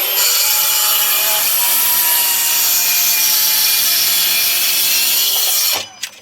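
Oak butcher block worktop being sawn for a Belfast sink cutout, a loud, steady rasping saw cut running close up for nearly six seconds before stopping abruptly with a small clatter.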